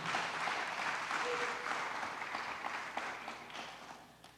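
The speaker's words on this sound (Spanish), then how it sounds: "denle un aplauso al Señor" A church congregation applauds for several seconds, steady clapping from a crowd at moderate distance that slowly fades out.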